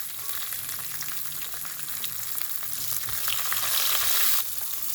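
Crushed garlic sizzling in hot oil with cumin and mustard seeds for moringa leaf dal: a dense, continuous close-up hiss and crackle that swells louder near the end, with no talking.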